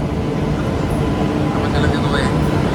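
Loud, continuous rumble of a train arriving at a station on the Coimbatore to Trivandrum route, with a steady roar and faint high squeals, filling the whole moment.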